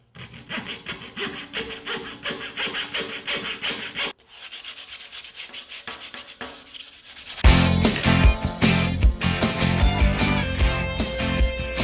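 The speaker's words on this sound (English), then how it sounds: "Print the template off of our website, glue it to a piece of plywood, then cut it out." Hand sawing through a sheet of plywood with a glued-on paper gauge template for wind turbine blades, steady rasping strokes that pause briefly, then return louder and denser.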